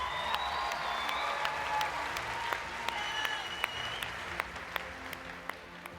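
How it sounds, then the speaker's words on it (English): Audience applause at a TwitchCon cosplay contest: a broad, moderately distant wash of clapping from a large crowd, with a few sharper individual claps standing out and whistles or cheers threaded through. "Give another round of applause to Cow Butt Crunchies!"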